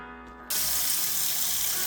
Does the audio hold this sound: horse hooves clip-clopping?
no